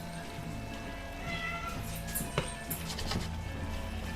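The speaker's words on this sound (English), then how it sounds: "aggravating meow meow, my little cat" A small pet cat meows repeatedly at moderate distance in a home kitchen, the cries rising and falling over a steady low hum, with a couple of sharper clatters partway through.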